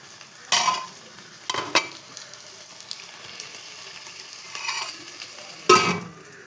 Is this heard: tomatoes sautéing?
yes